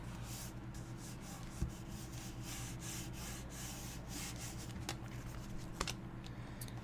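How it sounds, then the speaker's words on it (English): Burnishing by hand on the back side of a piece, heard as faint, close, repeated rubbing strokes in a soft back-and-forth rhythm with a few light taps. "So I am burnishing. I am doing it on the back side."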